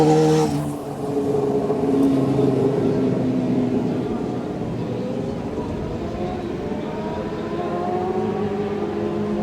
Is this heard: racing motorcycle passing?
yes